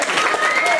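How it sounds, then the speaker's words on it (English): A wrestling roster claps for a 40-year veteran at a live wrestling event, a short burst of dense crowd applause with a voice talking over it. "Our roster here coming out and clapping this 40-year veteran."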